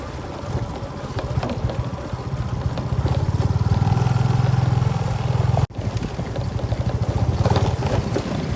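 A motorbike riding out of a shady forest trail while mushroom hunting on a hill, its engine droning steadily and close, rising briefly, with rough clattering over the ground and a short cut near the end.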